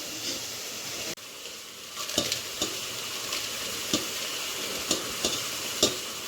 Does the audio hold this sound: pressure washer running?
no